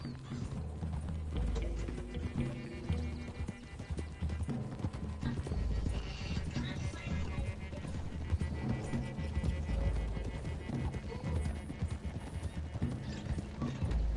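Horses trotting in the video game Red Dead Redemption 2, a busy, continuous clip-clop of several sets of hooves with creaking tack, close and steady throughout.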